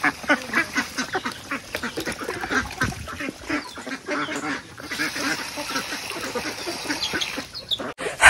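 Ducks quack in a busy, overlapping chorus as they are fed rice grain at a village home, the calls close and continuous throughout with a brief drop near the end.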